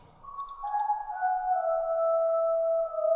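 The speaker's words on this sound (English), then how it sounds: "Kind of sounds like a flute now." Guitar sample processed in FL Studio until it sounds like a flute, a smooth sustained tone that slides slightly and holds for a few seconds, clear and alone without talk.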